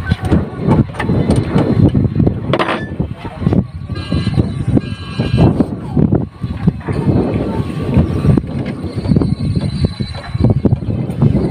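An engine named Rizan runs steadily after an oil change, a continuous rumbling drone with irregular mechanical pulses, heard under nearby talking.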